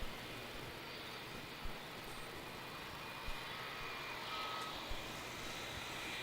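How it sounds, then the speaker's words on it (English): A faint, steady engine rumble and whine from an Emirates Airbus A380 taxiing to its bay at Melbourne Airport at night, with a few soft thumps over a constant broadband wash. "that's the Emirates 380 taxiing to the bay"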